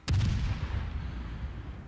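Heavy naval guns on battleships in World of Warships firing HE shells: one loud, deep boom at the start, then a low rumbling tail that fades slowly.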